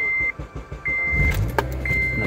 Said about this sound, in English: we're gonna start up the car now